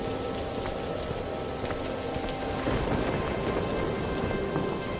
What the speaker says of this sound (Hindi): वे दोनों अपने बेटे को लेकर बिलुआ के घर की तरफ उस तेज बारिश में चल देते हैं।